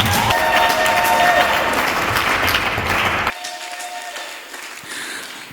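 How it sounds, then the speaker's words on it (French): An audience at a school guide launch ceremony in the DRC applauds itself, loud crowd clapping with some cheering that cuts off abruptly partway, leaving quieter room sound and faint scattered noises. "Est-ce que vous pouvez applaudir pour vous-même,"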